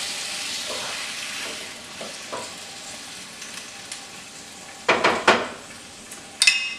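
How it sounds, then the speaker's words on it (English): Onions and mushrooms sizzle steadily in a pan with garlic, a low continuous fry with a few soft stirring scrapes, then louder clattering utensil knocks against the pan near the end. "So you are going to add in your onions and also add in your mushrooms at this point."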